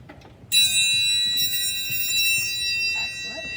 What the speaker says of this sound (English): we have Sohani playing the triangle